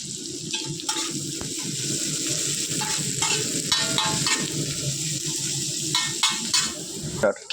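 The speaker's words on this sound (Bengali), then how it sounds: "আমি এখন এর মধ্যে ঢেলে দেবো পাতাকপি আর আমার যে কুচানো কাঁচা মরিচের ঝালটা দিয়ে দেবো মধ্যে" Shredded cabbage and chopped green chillies stir-fry in hot oil, a steady close sizzle broken by scraping stirs and light clatter throughout.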